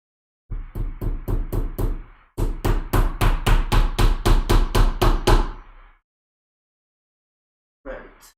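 Repeated hammer blows on wood while building gaming shelves, a steady run of close, loud knocks in two bursts with a short pause between, ending in silence before one last tap.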